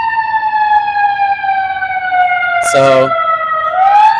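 Ambulance siren passing by on a Chicago street, a loud sustained wailing tone that dips and rises in pitch, with a brief burst of noise midway and a voice speaking over it.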